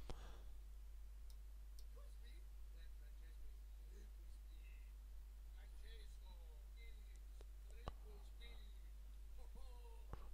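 A computer mouse gives a few sharp, faint clicks scattered over a quiet room, with a steady low electrical hum underneath.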